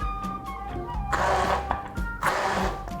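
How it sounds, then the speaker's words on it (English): Kitchen blender run in two short pulses, each a loud whir lasting under a second with a brief gap between, close by and without talk. "We're gonna use short pulses with the blender"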